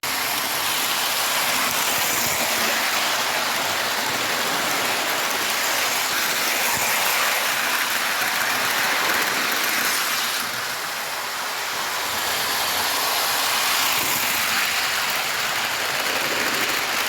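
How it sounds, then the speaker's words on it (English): A Lionel postwar 2056 Hudson toy steam locomotive runs around its track, a loud, continuous rushing rumble and whir that dips briefly midway and then resumes, with no talking. "you will see that that will start to puff away as he goes around the track"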